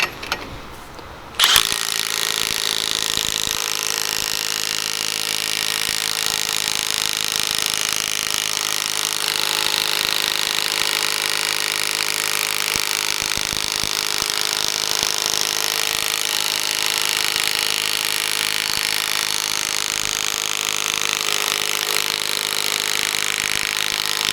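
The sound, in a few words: Milwaukee 1/2-inch mid-torque impact wrench running at max torque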